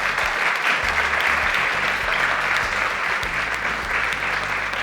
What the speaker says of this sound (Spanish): Un fuerte aplauso para Giovanna,